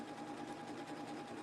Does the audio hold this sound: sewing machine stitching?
yes